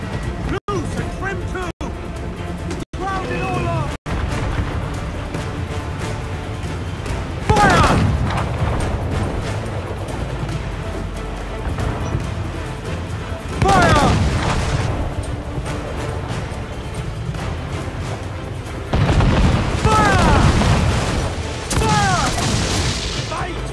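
Several sharp, loud ship cannon booms crack out early in an Assassin's Creed IV: Black Flag battle, followed by heavy rolling blasts and rumbling chaos, with voices talking in between.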